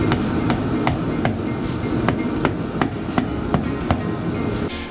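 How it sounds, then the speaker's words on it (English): Rubber mallet tapping a motorcycle clutch part during a clutch replacement, about a dozen sharp, evenly spaced knocks ringing out close and loud. "Couple of love taps with the rubber mallet."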